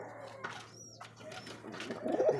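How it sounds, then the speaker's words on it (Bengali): Pigeons offered for sale give soft cooing, with a low throaty coo building near the end over faint background noise. "দেখছেন বলছিলাম না যে ডাকবে হান্ড্রেড পার্সেন্ট কবুতর"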